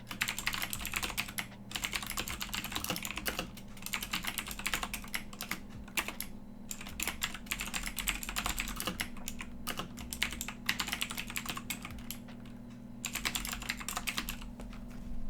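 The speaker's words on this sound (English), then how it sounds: "so much typing" Rapid keystrokes clatter on a computer keyboard while Java code is entered, a dense, steady stream of clicks that runs for about fifteen seconds with short pauses, quiet and close against a low constant hum, with no talking.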